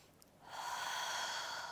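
A slow, steady exhale during a pilates core warm-up, drawing in the abdominals, a soft airy breath that swells after a quiet start and holds evenly, close and faint.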